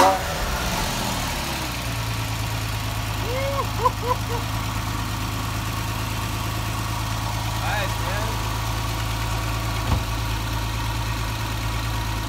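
A Porsche 911 Carrera 4S engine idles steadily with a deep, constant hum and light vibration close by, while voices talk intermittently over it.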